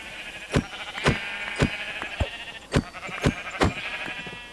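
Sheep in Minecraft, in the FTB Skies 2 modpack, bleat several times over a few seconds, each bleat short and fairly quiet, with sharp clicky game sounds spaced between them.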